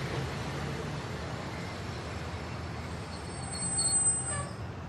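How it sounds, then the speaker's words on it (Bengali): A train runs on rails with a steady broadband rumble and rattle, holding even loudness and swelling slightly near the end, used as a sound effect in a spoken ghost story. "বর্ধমান হয়ে যখন আমাদের ট্রেন সাঁইথিয়া পৌঁছলো"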